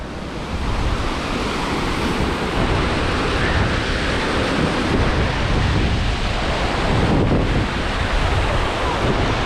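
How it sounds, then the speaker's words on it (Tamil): Lesmurdie Falls, a seasonal waterfall fed by runoff from the hills: a steady, loud, broadband roar of rushing water fills the whole span, roughened by some wind buffeting on the microphone. "இதால் அப்படியே மலைகள்லேருந்து வர்ற தண்ணியான் இதால் பிறகு வந்து நீர்வீழ்ச்சியாக மாறுது"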